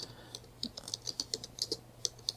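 Quick, uneven keystrokes clatter on a computer keyboard, a run of light clicks close to the microphone and fairly quiet, with no voices.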